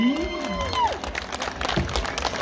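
An audience claps and cheers for a young band at an outdoor Diwali mela, a dense wash of crowd noise with a voice rising over it and a brief whoop.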